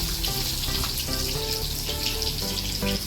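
Tomatoes tipped into hot oil with cumin seeds and curry leaves for a Marathi peanut amti give a steady, close frying sizzle that holds throughout, with faint clinks of stirring and no talk.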